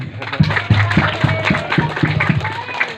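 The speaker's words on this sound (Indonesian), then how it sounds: "Tepuk tangan buat beliau." Steady, rhythmic clapping from a small group at an Indonesian community gathering during a house renovation visit, each clap landing in an even beat for about three seconds.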